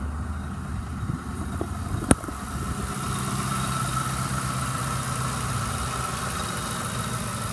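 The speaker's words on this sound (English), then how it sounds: "let me start it up so you can hear the engine." Steady, close idle of a 2011 Ford Crown Victoria Police Interceptor engine, an even low rumble with one sharp click partway through and no talking.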